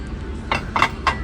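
Store dinnerware being handled while browsing a holiday collection set, with three quick light clinks of dishes against each other over quiet shop background.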